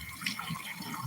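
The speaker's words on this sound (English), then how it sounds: "I'm washing my hands because my hand was in that water." Tap water runs steadily while hands are rinsed beneath it, a soft, close trickle and splash with no voices.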